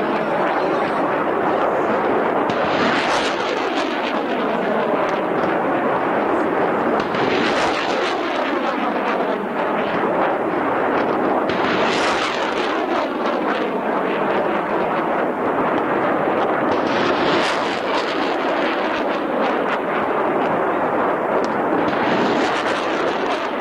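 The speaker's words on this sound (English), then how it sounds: "There's our rockets." Field artillery MLRS rockets launch in a series, each firing a roaring whoosh that swells and fades, about five launches spaced several seconds apart, loud and sustained outdoors with no speech.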